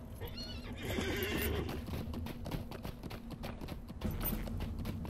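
A horse ridden in Lord of the Rings Online, hooves clip-clopping in a quick galloping rhythm with a whinny near the start, close and fairly loud under a soft musical bed.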